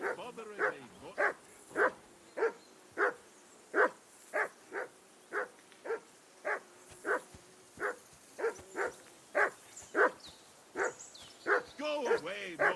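A dog in Kingdom Come: Deliverance II barks repeatedly in a steady rhythm of about twenty sharp, close barks, with whimpering yips near the end and a voice speaking over it.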